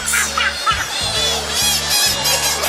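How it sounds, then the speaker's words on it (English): Repeated high-pitched squeaks and honks from a tour group's device in Rome, loud and close, mixed with a low droning buzz and faint chatter from people nearby. "There's a really weird high-pitched noise coming from somewhere and I don't know where it's coming from"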